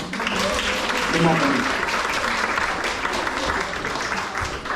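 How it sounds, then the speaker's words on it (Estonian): A festive show audience applauds the ticket girls, a steady, dense clapping that runs the whole time, with voices and chatter mixed in beneath it. "Nendele võib ka aplausi teha."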